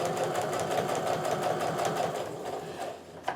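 A sewing machine runs steadily at close range, stitching quilt block fabric with a scant quarter-inch seam, its rapid needle rhythm whirring continuously before slowing to a stop.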